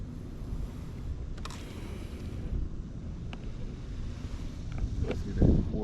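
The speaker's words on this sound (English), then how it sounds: "Let the wind do its work." Wind blowing across a small homebuilt sailboat out on the water, a continuous low rushing roar with buffeting on the microphone that swells louder near the end.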